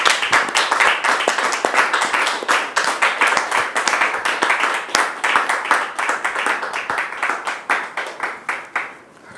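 A live audience claps loudly and steadily for about nine seconds to welcome a guest, Brother David, onto a stage. The dense, close hand claps are sharp, continuous and even, tapering off into a few scattered claps at the end.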